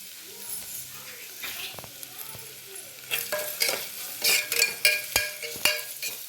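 Vegetables sauté in a pan with rock salt added while a spoon stirs them, giving a soft sizzle with scraping and clinking strokes that grow louder and more frequent in the second half.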